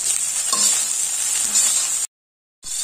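Egg fried rice with spring onions stirred in a hot pan: a soft steady sizzle with a couple of light scrapes, then a sudden cut to silence before the sizzle resumes.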